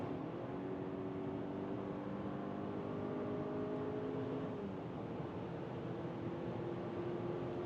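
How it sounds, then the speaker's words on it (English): A steady engine hum from inside a luxury SUV at 130 km/h, the tone climbing gradually as it accelerates further, with constant road and wind noise. "Here now at 130 kilometers an hour, let's accelerate even further."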